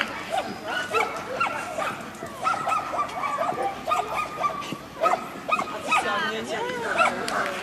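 A dog barks, yips and whimpers in quick, excited bursts throughout, mixed with people talking and calling nearby, apparently at a dog track or course.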